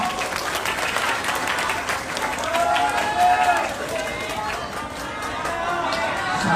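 A crowd at a political campaign forum claps and cheers, a sustained wave of applause that swells in the middle, with crowd chatter and a speaking voice over it.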